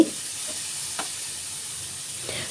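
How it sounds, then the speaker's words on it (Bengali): Rose pitha, a flower-shaped sweet made from a sugar-sweetened sticky batter, frying in hot oil in a pan, with a steady bright sizzle and a few soft stirring scrapes. "ভালো করে নাড়াচাড়া করে আমি বেজে নিচ্ছি"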